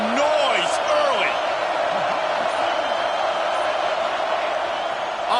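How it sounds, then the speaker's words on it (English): A stadium crowd in the College Football 26 video game roars as a steady wash of noise, with a commentator's voice talking over it throughout. "This crowd bringing the energy and noise early."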